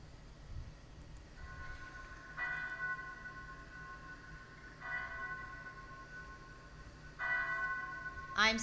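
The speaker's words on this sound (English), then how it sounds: "The bells you hear are ringing to warn the people to evacuate the city as the Martians approach." Bells ring out in repeated bursts across a city under attack by approaching Martians, sounding from a rooftop in a radio drama; three clanging peals at moderate loudness stand out over a low, rumbling background, with no one talking.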